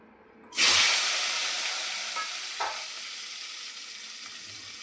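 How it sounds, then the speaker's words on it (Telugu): Green chillies dropped into hot oil in a pan erupt in a loud, close sizzle that starts abruptly, then settles into a steady hiss that slowly fades, with a couple of faint stirring scrapes and no talking. "తీసేసిన ఆయిల్లోనే మిర్చి వేయించుకున్నాయి"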